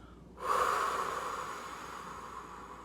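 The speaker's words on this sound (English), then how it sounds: "blow all of that stale air that's in you right now out of your body. Just blow it out" A single forceful exhale of stale air, a loud breathy whoosh that begins abruptly and then trails off into a long, slowly fading hiss, with no talking.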